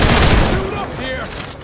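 Dense gunfire fills a video game battle, loud at the start and then trailing off into quieter game noise while voices speak.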